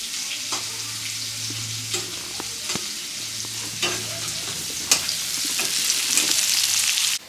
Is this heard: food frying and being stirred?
yes